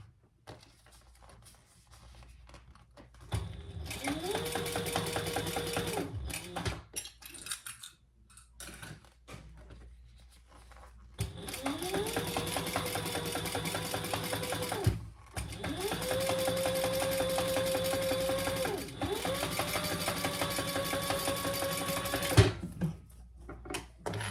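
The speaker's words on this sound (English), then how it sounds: "All right, let's top stitch." Sewing machine topstitching a fabric beauty bag, running in several steady bursts with a humming motor whine and rapid needle clatter, stopping and starting between runs, close up with no talk.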